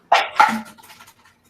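A dog gives two quick, sharp barks close by, the second trailing into a short, fading growl-like rumble, with silence afterward.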